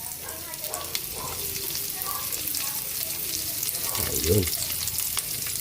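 Garlic and onion sizzle in a pan with pork, a steady broadband frying hiss with light stirring clatter, close and fairly loud, while someone speaks briefly over it.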